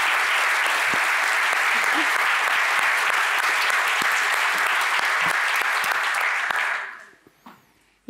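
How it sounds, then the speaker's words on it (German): A convention audience at a talk on pen-and-paper role-playing gives speakers sustained, dense applause for about seven seconds before it fades quickly into near silence. "Einen großen Applaus für die drei."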